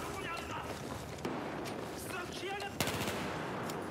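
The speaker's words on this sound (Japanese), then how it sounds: "フルスロットルで AR の音が聞こえたな" Rapid assault rifle fire in the shooter game Battlefield 4, a dense run of bursts and repeating shots over steady battlefield noise, with a voice faintly present in the mix.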